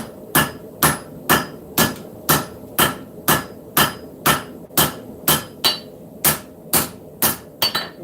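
A hammer strikes a hot knife tang pulled from the forge, about seventeen sharp, ringing metallic blows in a steady, even rhythm, close and loud with no talking.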